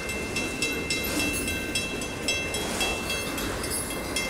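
A train of autorack cars rolls past the Fondren Road crossing as a steady, close rumble with faint rhythmic clicking of wheels over rail joints, continuous throughout.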